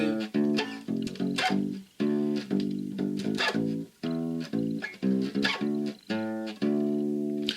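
A bass guitar plays a simple beginner chord progression as clearly separated plucked notes in a steady quarter-note rhythm, each note ringing briefly before the next, close and alone with no talking.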